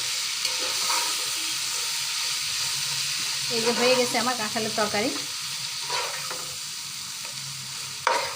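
Raw jackfruit curry is stirred in a frying pan, with a spatula scraping and the fried pieces sizzling close by, while someone speaks briefly over the cooking.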